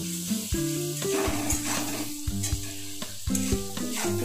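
Chopped onions with a pinch of salt fry in a pan for chicken ghugni, a soft steady sizzle running beneath louder tonal background music.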